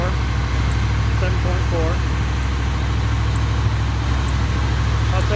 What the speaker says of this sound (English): It has an aftermarket Flowmaster and straight pipes. So it does sound pretty strong.